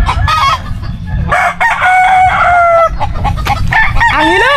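A hen and rooster somewhere along the Matabungkay shore cluck and crow loudly in repeated bursts, their calls rising and falling over steady background noise.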